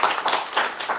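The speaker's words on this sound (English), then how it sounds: "Can we have another round of applause for Craig?" An audience claps for poet Craig Santos Perez, a steady wash of applause with soft rhythmic swells, moderately loud and close.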